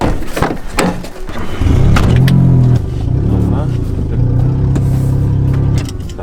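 Daewoo Matiz running on brake cleaner as fuel, revving and pulling away close by. A low engine drone rises, dips and holds, over clattering and thumps at the start, with voices talking during it.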